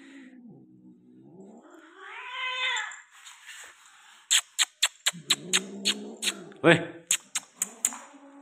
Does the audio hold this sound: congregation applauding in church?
no